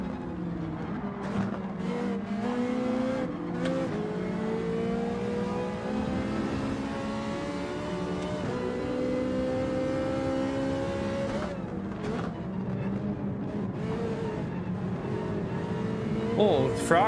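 A Ferrari race car engine in Gran Turismo 7 drones steadily for the whole stretch, its pitch climbing and falling through the gears, with a voice talking over it.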